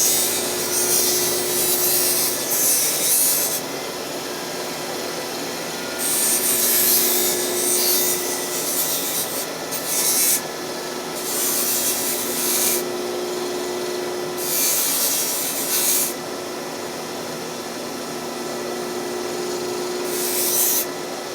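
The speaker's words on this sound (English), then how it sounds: "Now clean it up better on the Miracle Wheel." Sheet metal for an inspection cover is rolled back and forth through an English wheel, making a close, continuous rubbing rumble that swells in repeated passes of a few seconds each over a steady background hum.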